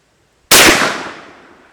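A single loud, close shot from a TriStar Viper G2 shotgun firing a Remington rifled .410 slug, a sharp blast after brief silence followed by a long, fading echo.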